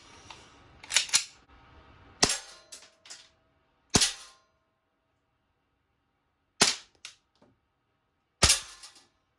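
Replica BB pistol with an 18-round magazine loaded with 17 BBs, switched to burst or full auto, firing sharp snapping bursts: several quick clustered cracks, then isolated shots spaced by silence, close and fairly loud.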